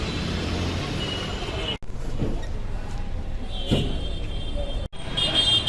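Riding a city bus through traffic, with a steady engine drone and road rumble throughout, broken by a couple of brief dropouts and a hiss of air brakes.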